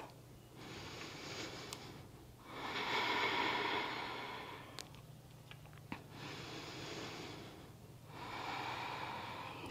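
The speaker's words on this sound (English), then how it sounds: "Notice the quality of your breath." Slow, deep breathing while holding a yoga pose: long audible inhales and exhales through the nose alternate in a steady rhythm. The breaths are close and unaccompanied, with a few small clicks between them.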